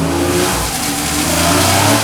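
A Porsche with all-wheel drive and Porsche Stability Management engaged accelerates hard, its engine note loud and steady and rising slightly across the short stretch, with no voices over it.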